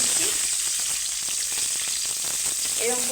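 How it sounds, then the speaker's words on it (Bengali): Pointed gourd (potol) pieces fry in hot oil in a pan, a steady, dense sizzle running throughout with faint stirring scrapes near the end. "আস্তে আস্তে করে পটলগুলোকে ভালো করে ভেজে নিতে হবে।"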